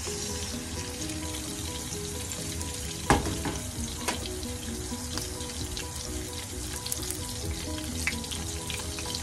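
Tender juicy hot dogs frying in a pan over low heat, with a steady close crackling sizzle throughout and a brief louder pop or clink partway through.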